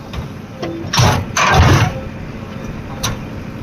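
A tractor engine sputters and revs in short bursts in a rainy, flooded riverside village, loud and close, with uneven surges between quieter idling.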